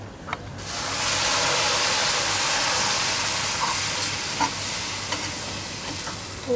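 Boiling water poured over roasted semolina for rava upma produces a sudden rush of loud, continuous hissing sizzle with steam, holding steady and close with a few faint clinks.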